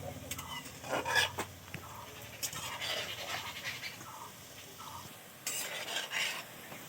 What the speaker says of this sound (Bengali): দেখো এপিট ওপিট করে ভেজে নিচ্ছি মিষ্টিগুলো